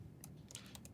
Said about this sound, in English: talking and typing at the same time